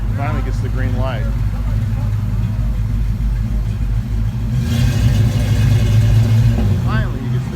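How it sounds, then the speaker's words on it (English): A Plymouth Barracuda 340 pulling away at a car show on a historic main street, a loud deep engine roar that builds steadily and close by, with people talking over it. "here comes that CUDA 340"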